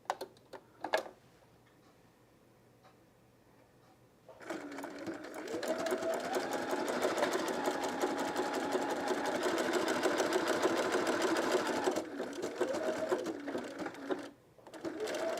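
A sewing machine stitches a zigzag seam, starting with a few brief clicks, then running steadily and loudly for about ten seconds with a fast rhythmic whir before stopping.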